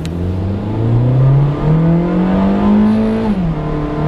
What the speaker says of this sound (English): something in the back rattles when you accelerate